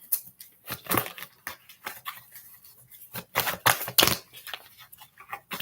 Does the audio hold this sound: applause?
no